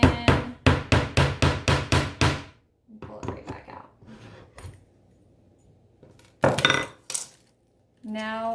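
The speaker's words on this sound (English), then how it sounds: "So I hammer it in and then pull it right back out." A nail is hammered by hand into the wood of a custom planter box: a quick, steady run of about eight sharp, loud blows up close, then scattered softer knocks and a final burst of strikes.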